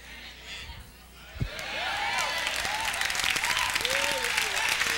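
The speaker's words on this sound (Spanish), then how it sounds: "No aplaudan, no aplaudan, no aplaudan, no aplaudan." Applause and cheering swell up from a church congregation after a brief quiet moment, with a thump near the start; whistles and voices ride over the sustained clapping.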